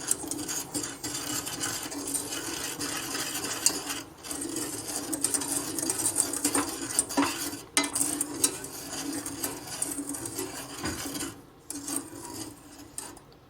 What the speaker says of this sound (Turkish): Margarin ve süt hariç tüm kuru malzemeleri karıştırıyorum.